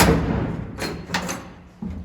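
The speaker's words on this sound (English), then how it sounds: "You can see how you put that in there and the door closes." The door of a 1969 Pontiac Firebird, fitted during a quarter panel replacement, swings and shuts with a couple of close metallic clunks and a final thud.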